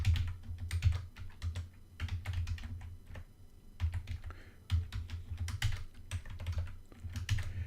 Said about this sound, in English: I got the microphone in front of my keyboard here, so I'm typing a little bit awkwardly.